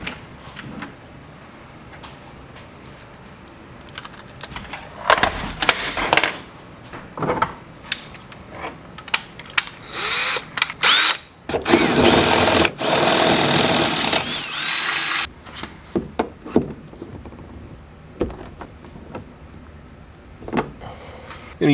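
A power drill drives black screws into car interior trim during an LS1-swapped E36 interior rebuild, with short bursts of whirring drill and tool handling building to a loud sustained run near the middle, followed by scattered clicks and rattles.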